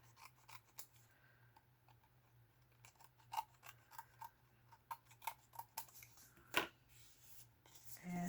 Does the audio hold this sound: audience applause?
no